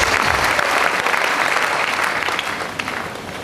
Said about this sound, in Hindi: आज अगर आप इनके लिए तालियां बजाते हो